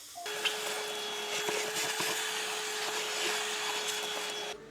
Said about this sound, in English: this is a good time to vacuum up all this metal